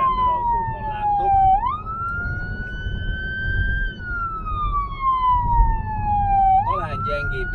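Police-style siren from a roof-mounted light bar on a Kia Sportage, a loud close wailing tone sweeping slowly up and down in repeated cycles, with low engine rumble underneath.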